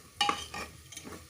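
A spoon stirs sugar frying in a pan for pulao, giving a few short scraping strokes over a soft sizzle, close and fairly quiet.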